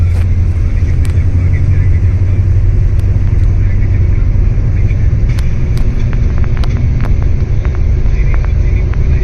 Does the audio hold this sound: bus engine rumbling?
yes